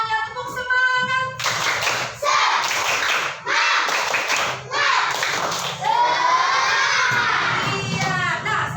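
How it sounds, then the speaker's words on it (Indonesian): Classroom children clap in bursts of rhythmic group clapping and shout cheerfully, with several loud rounds separated by short pauses and a voice speaking between them. "Yuk, semangat semuanya, tepuk semangat."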